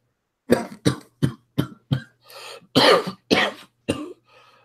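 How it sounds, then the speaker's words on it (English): A run of sharp, hacking coughs, about eight bursts in quick succession, fairly close and loud, ending with a softer throat-clearing sound. "you hear a coughing from the figure on the dais"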